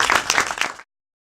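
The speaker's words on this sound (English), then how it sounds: "everyone likes to join me in a round of applause again for Michael" A short burst of audience applause, many hands clapping together, that cuts off abruptly after under a second.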